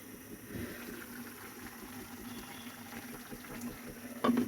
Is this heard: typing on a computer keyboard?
no